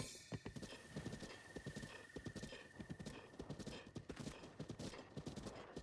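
Horse galloping in a video game, a fast rhythmic run of hoofbeats, close and prominent, with a steady tonal hum beneath and no voices.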